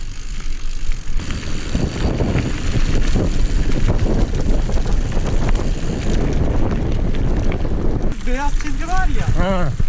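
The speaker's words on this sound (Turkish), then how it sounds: "Rüzgar vurdu." Strong wind buffets the microphone in loud, steady gusts during a mountain bike tour in Muğla, Turkey, with a voice speaking briefly near the end.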